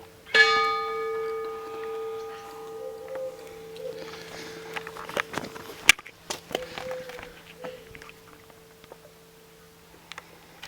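A church tower bell in the village of Theizé, France, strikes at 8 pm with one loud, ringing toll that slowly decays, followed by fainter tolls, while scattered footsteps and small outdoor noises sound nearby.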